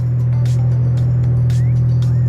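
A salvaged Audi B8 S4's loud exhaust drones steadily from inside the cabin while driving, a heavy, constant low rumble with faint intermittent ticks above it.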